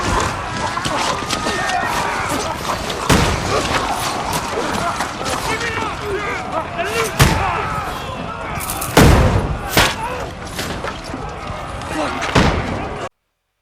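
Gunfire from a PC video game rings out as repeated sharp shots and heavy booms over a constant loud battle din, with voices shouting in the game throughout and the sound cutting off abruptly at the end.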